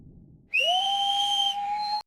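A single dolphin whistle, a clear tonal call that rises quickly and then holds steady for about one and a half seconds, loud and alone against a faint low background.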